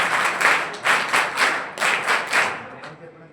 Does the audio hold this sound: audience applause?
yes